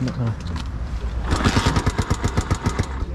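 Honda CB250RS motorcycle engine turning over and catching in a rapid, uneven rhythm of loud pulses after a stretch of quieter mechanical noise and talk.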